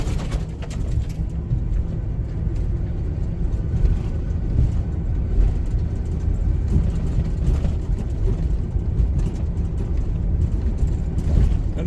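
A 2019 van rolls down the road with its engine running smoothly, a steady low rumble and road noise filling the cabin throughout, without any talking.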